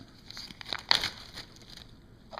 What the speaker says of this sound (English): put it in a separate plastic bag